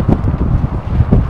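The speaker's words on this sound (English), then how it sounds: "54 mile an hour gusts" Strong gusty wind buffeting an outdoor microphone at London Heathrow Airport, a loud continuous low rumble with rising and falling surges.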